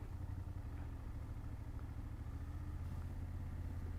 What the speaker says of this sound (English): let go of the gas, it's like the engine braking, as you can see